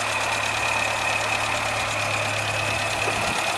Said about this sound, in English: Now at the moment, we're running on idle at about